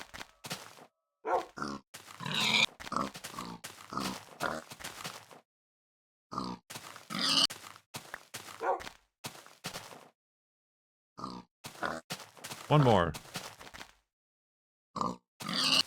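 Short bursts of pig grunts and oinks from the video game Minecraft, coming in clustered groups separated by silent gaps, with a brief voice speaking partway through.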